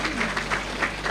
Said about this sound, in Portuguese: peço uma salva de palmas de novo para ela.